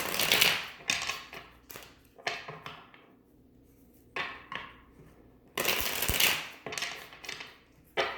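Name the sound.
shuffling a deck of tarot cards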